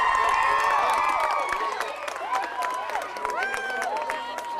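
Crowd at a school camogie final in Coachford cheering, shouting and clapping in celebration, dense and sustained with high children's voices on top, loud and close throughout.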